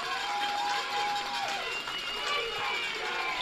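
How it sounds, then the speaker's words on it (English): Crowd noise rising at a high school football game between Blair and Lawrenceville, a broad distant roar of cheering held throughout beneath a commentator's steady voice. "Some life into the crowd."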